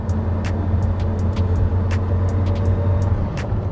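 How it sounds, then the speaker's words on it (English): Porsche Carrera GT running in fourth gear on a track, with a steady low engine drone, a faint background whir and a few brief high clicks and clunks from the gearbox, continuous and close, with no talking. "There's this kind of whirring and clunking in the background. You can feel everything in the gearbox."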